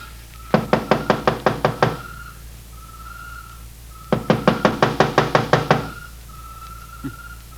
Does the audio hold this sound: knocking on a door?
yes